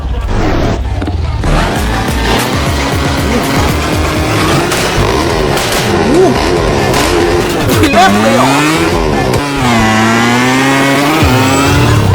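Roblox car engine and exhaust droning steadily with rising and falling pitch, played with a steering wheel, someone talking loudly over it throughout.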